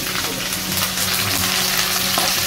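Chili and curry leaves frying in hot oil with garlic, a loud, dense, continuous sizzle and crackle close up, with faint stirring under it.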